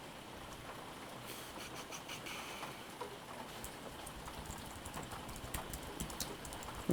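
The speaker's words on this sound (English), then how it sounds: "can you hear the rain outside my window?" Steady rain falls outside a window, a soft, continuous patter with scattered drips, faint and distant throughout, with no talking.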